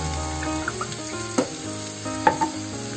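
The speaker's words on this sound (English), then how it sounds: "We saute again." Soya Manchurian sizzles loudly in a hot pan with soya sauce, chilli sauce and ketchup, a continuous close hiss broken by a few sharp spatula scrapes and clanks.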